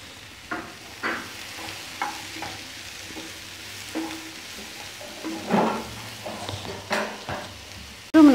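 Mushrooms frying in a covered pan for cutlets, a soft, steady sizzle punctuated by occasional stirring scrapes and clinks, fairly quiet and close, with a louder clatter at the very end.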